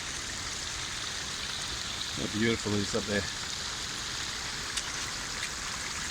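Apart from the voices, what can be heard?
waterfall stream flowing over steps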